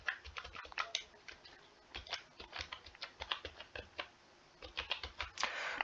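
Quick clicking keystrokes on a computer keyboard while an email ID is entered, an irregular close rattle of taps in short bursts, quiet and without any talking.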